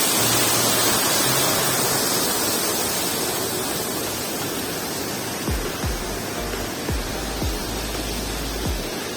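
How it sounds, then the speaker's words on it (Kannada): Steady broadband rush of a small waterfall near the Rhine Falls in Switzerland fills the scene, a continuous roar with a few low thumps near the end. "ಇಲ್ಲೂ ಒಂದು ಸ್ಮಾಲ್ ವಾಟರ್ ಫಾಲ್ಸ್ ಇದೆ"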